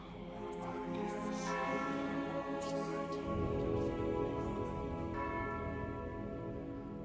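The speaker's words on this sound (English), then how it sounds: "before you know it, you start to hear the bells" Bells ringing in a mine where prisoners are held, resonant tolls with long sustained overtones layered and overlapping, loud and continuous throughout.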